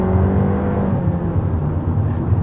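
A 2022 Honda Civic sedan's 1.5-liter turbocharged four-cylinder pulls under acceleration, a steady loud engine hum and road rumble heard from inside the car.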